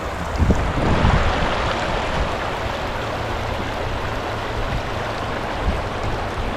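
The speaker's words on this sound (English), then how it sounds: "The Murray River at Jingellic." The Murray River at Jingellic rushes steadily in a broad, continuous wash of flowing water, close and even, with a soft thump near the start and no voices.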